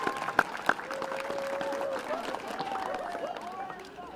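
Audience applause for a music teacher at a City of Springfield Arbor Day event with Washington School's grade 2 students, steady clapping from a crowd with a couple of sharp louder claps near the start and voices mixed in.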